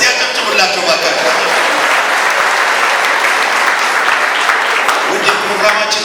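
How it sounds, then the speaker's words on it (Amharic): Sustained audience applause at a live Easter special television program, dense steady clapping from a crowd lasting throughout. "እስቲ አጨብጭቡላቸው ባካችሁ።"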